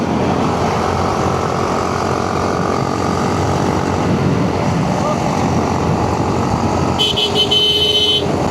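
A Yamaha R15 motorcycle engine droning loudly and steadily at night on the way back from a beach, with wind rush and a brief horn-like tone near the end.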